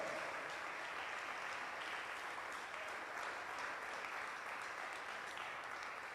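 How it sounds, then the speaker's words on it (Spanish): A church congregation claps hard and steadily, a dense, continuous wall of applause filling a worship hall without a break. "Dele fuerte las palmas al Rey de Reyes y Señor de Señores"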